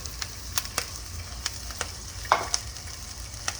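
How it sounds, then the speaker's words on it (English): Vegetables stir-fried in a little sesame oil for hot and sour soup, a steady close sizzle punctuated by sharp clicks and scrapes of a utensil against the pan. "I'm just gonna add sesame oil, okay? Not much. Maybe 1/3 teaspoon sesame oil. I'm just gonna add in the vegetable."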